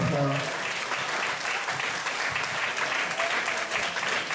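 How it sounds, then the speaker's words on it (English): Steady applause from an awards-ceremony audience, dense clapping that holds at an even level throughout. "please give her a round of applause"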